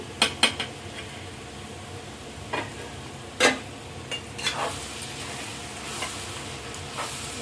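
Soy chunks (meal maker) tipped into an ivy gourd curry and mixed in a pan, giving a few sharp metal spoon clinks and scraping stirs over a faint steady sizzle, close by with no talking.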